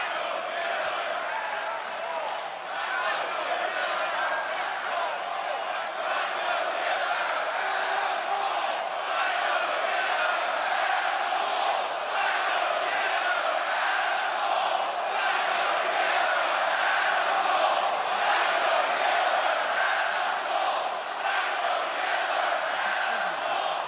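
A large arena crowd at the NXT TakeOver: Portland wrestling event roars and cheers continuously, a dense, loud wash of voices and whoops that holds steady throughout.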